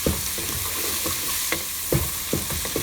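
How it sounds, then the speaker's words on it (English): Onions fry in a pan over a medium flame, giving a soft continuous sizzle broken by a few sharp stirring scrapes. "We are going to cook these onions until they are browned up."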